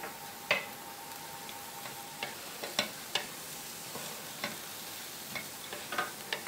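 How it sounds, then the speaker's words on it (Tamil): Grated coconut, onion, green chili and peeled chopped ginger sautéing in a pan for chutney, giving a soft steady sizzle broken by intermittent spoon scrapes and taps, fairly quiet and with no voices. "இந்த தேங்காயை வெங்காயத்தோடு சேர்த்து வதக்கி எடுத்துக்கிறேன்."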